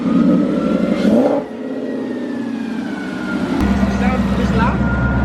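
Ford Coyote 5.0 V8 with longtube headers and a catback exhaust revving loudly in bursts, its engine note rising and falling, with people talking over it.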